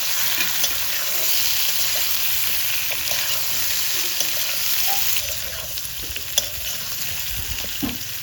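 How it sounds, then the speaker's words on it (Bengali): Chili tempering sizzles loudly in hot oil for a rohu fish curry, a dense continuous crackle with scattered pops and light stirring, heard close with no voices. "আর এখন এই যে দিয়ে দিচ্ছে লঙ্কা ফোড়ন হয়ে যাচ্ছে"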